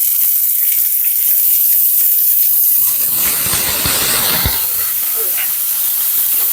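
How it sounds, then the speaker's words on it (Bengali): Garlic and green chilies frying in a pan give a steady close sizzle and hiss that builds and crackles more densely partway through. "একটু রসুন আর নিয়ে কাঁচামরিচ দিয়ে ভেজে নিচ্ছি"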